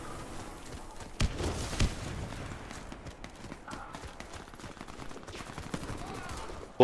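Gunfire in the Warface shooter during a team deathmatch on the Hangar map: a steady crackle of shots and impacts under a dense game mix, with sharper bursts standing out near the start and end.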